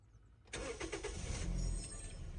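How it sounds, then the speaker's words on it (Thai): A 2012 Toyota Vios 1.5 automatic engine cranks and catches after a moment of quiet, then settles into a steady, fairly quiet idle. "เดี๋ยวเรามาฟังเสียงเครื่องยนต์กันครับ"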